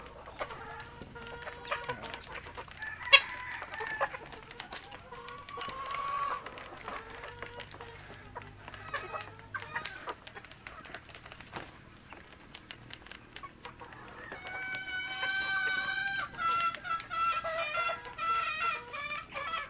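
Young breeding stag roosters and chickens cluck and crow in a farmyard, with repeated nearby crows and clucks rising over steady background hiss and growing busier toward the end.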